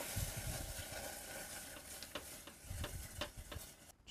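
Milk being stirred into a roux in a pan, with a wet scraping and stirring texture and soft sizzling, plus a few sharp clicks of the spoon against the pan.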